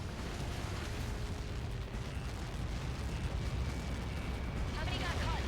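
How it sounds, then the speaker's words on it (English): A large impact explosion in the flight combat game Ace Combat 7, a dense, sustained roar and rumble filling the whole stretch at steady loudness with a speaking voice mixed in. "How many got caught in that explosion?"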